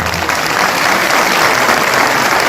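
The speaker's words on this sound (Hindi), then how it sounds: "उस पर्वतदिगार के लिए अभी तक की सबसे जोरदार ताली" Loud, sustained applause from a large crowd, dense clapping filling the whole clip without pause.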